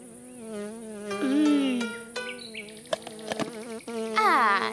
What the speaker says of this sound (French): Une abeille! Ne bouge pas, Lily.